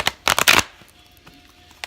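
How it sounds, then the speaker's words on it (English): A deck of tarot cards riffled and shuffled in a few quick, loud bursts, followed by near silence and a faint tap near the end. "these cards don't want to shuffle all the time."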